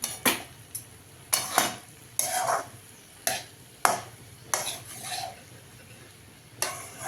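Raw papaya mixed with gram flour scraped and stirred in a pan, a spoon knocking and rasping against the metal in repeated strokes over a faint sizzle, close and fairly loud with no talk.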